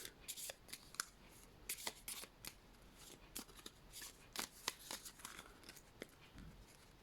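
A deck of cards is shuffled close up, with quick riffling bursts and sharp snaps of cards against one another repeating in an uneven rhythm, quiet and without talking.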